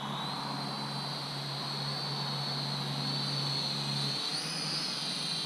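A Helicute H818HW RC quadcopter flies at full throttle, its rotors giving a steady, loud, high-pitched whine with a constant buzzing hum throughout, pitch rising slightly near the end.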